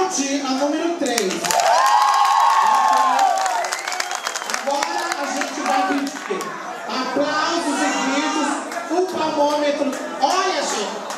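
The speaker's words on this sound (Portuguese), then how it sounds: "Vamos aplaudir a número 3." Nightclub audience applauding and cheering for a contestant during a dance club show, crowd noise swelling under an MC's amplified voice and chatter throughout.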